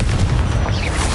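A Confringo blasting spell detonates in Hogwarts Legacy, a dense, loud, low booming explosion rumbling steadily throughout with no pause or silence.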